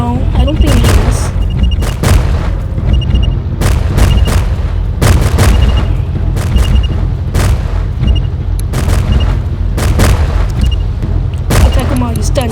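Gunfire during a boss fight in the video game Field Trip Z, with loud booming shots recurring at a rapid, regular pace across the whole stretch and game sounds layered between them.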